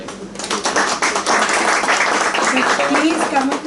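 Applause from the audience at an essay competition event, a dense steady patter of many hands clapping that swells and holds loud for several seconds.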